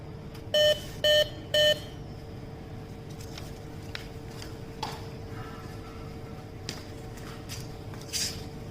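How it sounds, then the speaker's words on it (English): Three short, evenly spaced electronic beeps from a Rish Insu 5Dx+ insulation tester mark the start of a step voltage test, over a steady low hum, followed by faint clicks and ticks. "Speaker will give 3 beeps in order to indicate that the step voltage has started."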